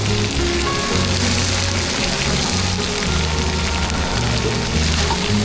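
Onion and tomato roast in a pan for tomato chutney, a loud dense crackling sizzle like rain on a surface, steady over a low hum of background noise.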